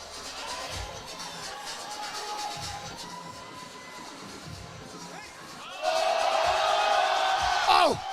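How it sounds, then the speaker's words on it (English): A crowd cheers at a sporting event in Sheffield. A commentator's voice runs over muffled crowd noise, and then a loud roar of cheering and whoops rises near the end. "The UK crowd, obviously, cheering for Ade, cheering for Jerns."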